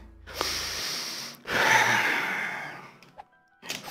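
A sharp, pained sniff followed by a longer strained breath, close and breathy, with a brief pause between them and another intake at the end.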